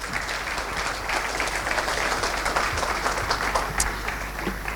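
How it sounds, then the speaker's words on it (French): A conference audience at a research anniversary session claps for a speaker: sustained, even applause with scattered sharper claps, continuing unbroken and close, with no speech on top. "on peut applaudir encore Frédéric."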